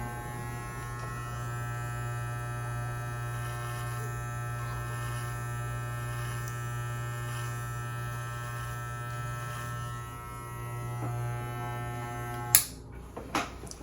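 Electric hair clippers running at a taper haircut, a steady close buzzing drone held for about twelve seconds, then cut off with a few clicks and knocks, no talking.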